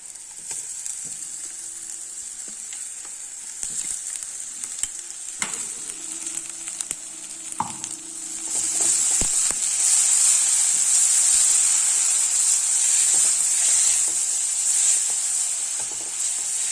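Ground gooseberry (amla) paste sautéing in a pan on low heat for gooseberry rice, giving a steady close sizzle that swells louder midway, with a few scraping stirs and no talk.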